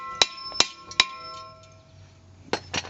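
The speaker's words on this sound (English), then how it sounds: "and then hammer on it like a hell" A hammer strikes a seized part soaked in WD-40, giving sharp metallic clangs with ringing tones: three spaced blows, a pause, then two more close together.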